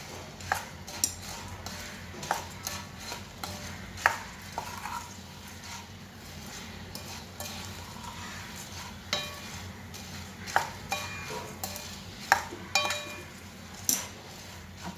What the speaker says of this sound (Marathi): आता गॅस एकदम लो फ्लेमवर ठेवायचा आणि हे मिक्स करत करत घालायचं.